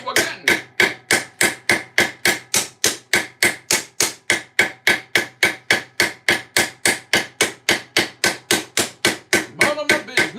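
Rivets on armour are hammered in a garage, a long run of about forty sharp, evenly spaced metallic blows at a steady fast rhythm, close and loud, with a brief scrape near the end.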